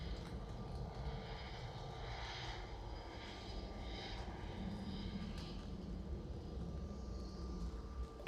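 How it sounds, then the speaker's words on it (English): An airliner passes at Manchester Airport, its engines producing a steady distant roar with a faint whining tone, even in level and moderately quiet throughout. "It's the singing plane"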